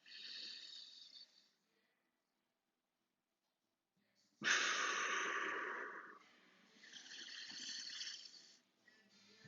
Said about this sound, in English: try and take 5 to 10 really big breaths into my belly